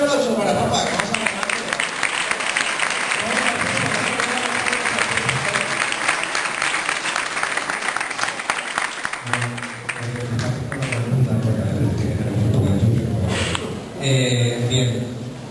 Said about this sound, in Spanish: Fuerte aplauso para Rafa